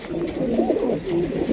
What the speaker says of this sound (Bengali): হোয়াইট কালার একজোড়া বিগ সাইজের বিউটি কবুতর পাইতেছেন